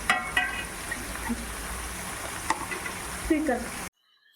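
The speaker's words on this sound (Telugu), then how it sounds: "చూడండి ఉల్లిపాయలు మంచిగా మగ్గుతున్నాయి ఇంకొంచెం మగ్గాలి" Onions soften in a pan for boti curry, a close, steady sizzle broken by a few clinks and scrapes of stirring, and the sound cuts off abruptly near the end.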